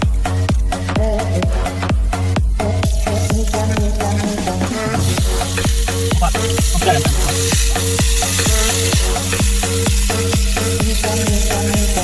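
Chicken boats sizzle and fry in a hot pan, a steady crackle under loud rhythmic music, with a brief spoken word.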